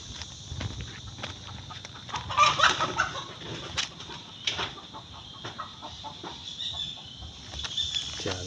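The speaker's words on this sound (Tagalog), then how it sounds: "Siyempre rin, nahabol yung manok" Chickens clucking in a rural backyard vegetable garden, a rooster and hens calling in irregular bursts with a louder flurry partway through, fairly close with faint outdoor background.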